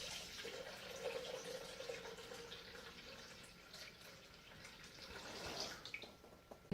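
A steady, faint stream of water fills a Thermomix bowl with 1000 g of water, splashing gently and continuously before easing off near the end.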